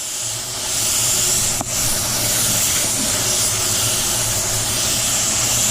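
A spray gun laying a wet second coat of automotive base paint, a loud continuous airy hiss close to the mic with a steady low hum underneath and one brief interruption.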